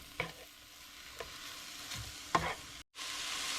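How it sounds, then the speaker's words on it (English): Minced garlic sizzles softly in a frying pan on a stovetop, with a steady low hiss and a few light scrapes of stirring spread across a few seconds. Close and quiet, with no voices. "I'm gonna add garlic, the minced garlic, to this pan"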